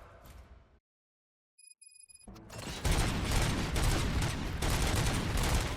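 Gunfire erupts in the video game RoboCop: Rogue City: a brief electronic chime over near silence, then a burst of rapid, loud, dense shots and booms that keeps going as a sustained firefight.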